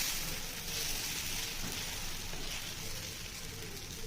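Dosa batter sizzles on a hot pan over a high gas flame, a steady, close crackling hiss that continues evenly with no voices over it.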